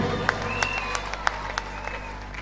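A church congregation applauds and cheers for several seconds, dense clapping with a few sharp louder claps standing out, over a steady background hum.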